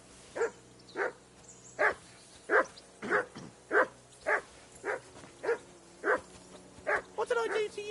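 In the medieval game Kingdom Come Deliverance 2, a dog lets out a steady run of about a dozen loud, close barks, ending in a quick burst of yips and a high whimper.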